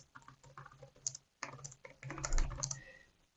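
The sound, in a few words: typing on a computer keyboard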